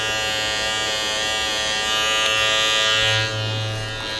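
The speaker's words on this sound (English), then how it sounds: "Now pay attention to how she's holding the clippers." Electric hair clippers buzz steadily and loudly up close as a woman shears off a husband's year-long beard, the motor hum constant with slight shifts in pitch as the blades move through hair.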